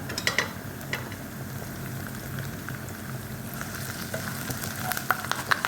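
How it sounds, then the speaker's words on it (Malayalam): Mixed vegetable pickle with bitter gourd, curry leaves and green chillies sizzles and crackles steadily in a hot pan as it is stirred, with occasional scraping clicks and no talking. "കറിവേപ്പില പച്ചമുളക് നമ്മളത് ഒന്നിച്ച് യോജിപ്പിക്കുകയാണ്"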